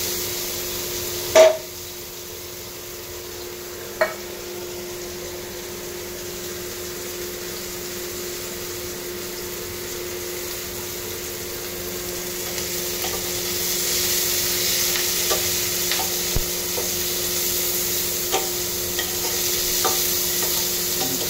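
Chopped mushrooms frying in hot oil in a pan, a steady low sizzle with a few sharp spoon knocks early and faint stirring scrapes later, close and without talk.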